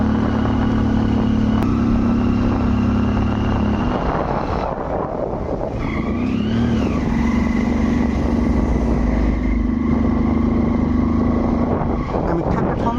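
A motorcycle climbs uphill on the road to Namo Buddha, Nepal, its engine droning steadily and close, with heavy wind buffeting the microphone throughout and a brief shift in engine tone midway.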